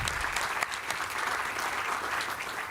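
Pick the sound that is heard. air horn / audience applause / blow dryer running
audience applause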